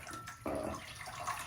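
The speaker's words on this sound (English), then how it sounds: "post shave, I've got a bowl here with some cold water in it." Cold water sloshing and splashing in a bowl after a shave, a short close burst of liquid movement with a brief louder splash midway.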